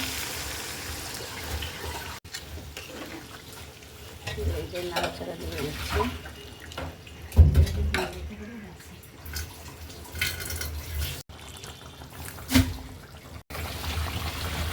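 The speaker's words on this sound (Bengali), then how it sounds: "আমি এখানে সামান্য একটু পানি দেবো এটা আর একটু ভালো করে সিদ্ধ হয়" Water poured into beef tripe curry simmering in a pan, with a steady sizzle and stirring scrapes throughout and a louder splash partway through.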